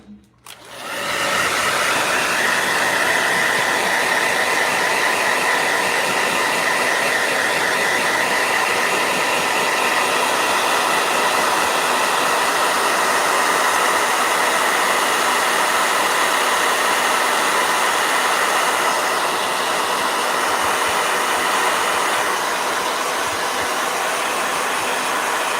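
A blow dryer runs for a long stretch on a watercolor painting, a loud, steady close-up whoosh that starts abruptly and holds almost unchanged throughout, with no talking.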